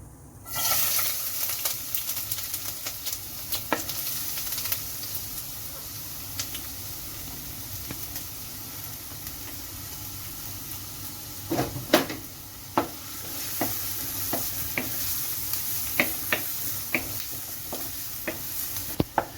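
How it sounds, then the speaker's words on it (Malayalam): Finely chopped ginger and garlic fry in oil in a pan for a Kerala-style camel roast, giving a steady soft sizzle broken by occasional clinks and stirring scrapes. "ഒരു 2 ടീസ്പൂൺ എണ്ണയുണ്ട്. ഇതിലേക്ക് നമുക്ക് ഒരു 2 ടീസ്പൂണ് ഇഞ്ചി ചെറുതായിട്ട് അരിഞ്ഞത്, ഒരു 2 ടീസ്പൂണ് വെളുത്തുള്ളി ചെറുതായിട്ട് അരിഞ്ഞതുമാണ്"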